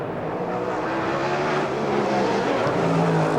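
Race cars roar at the 1994 Daytona race, a loud sustained engine drone with tonal whine rising and shifting, heard near and steady without speech over it.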